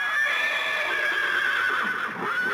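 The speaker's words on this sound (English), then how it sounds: "Let that horse go!" A horse whinnies loudly and close, one sustained neigh filling the moment against a busy outdoor backdrop, with a faint clop of hooves beneath it.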